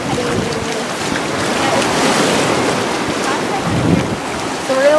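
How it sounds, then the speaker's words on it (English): Ocean surf and steady wind on a beach, a broad continuous wash with gusty microphone rumble and rising swells throughout. "So we just walked over to the beach, and here it is."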